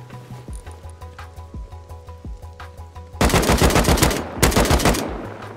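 AK rifle fire in the video game Rust, heard first as a regular series of single shots and then as two dense, loud bursts of rapid automatic fire, with no speech.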